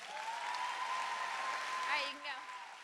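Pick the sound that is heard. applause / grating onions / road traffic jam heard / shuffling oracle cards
applause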